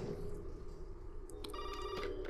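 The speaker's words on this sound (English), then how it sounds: "Triggers a phone call." Telephone ringing in Resident Evil 7, a survival horror video game: after a low ambient hum, a bright electronic bell starts up and rings in quick repeated bursts, fairly faint and with no talking.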